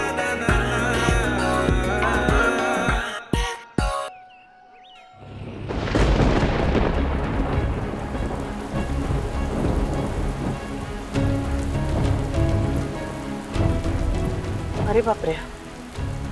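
Heavy rain pours steadily after a brief music cut, with rumbles of thunder in a sudden downpour on a road; a person exclaims briefly over the loud, continuous wash of rain.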